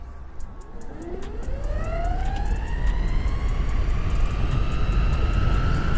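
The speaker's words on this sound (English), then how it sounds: "We're going to do full throttle." A Meepo Hurricane electric skateboard at full throttle in speed mode 4, its motor whine rising steadily in pitch as it accelerates, heard close over continuous road and wind rumble.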